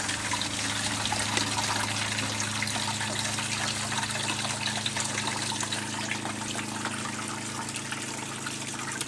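Water drains and trickles steadily from a Solis Pocket espresso machine during winterizing while its pump runs, a close, constant hum under the liquid flow.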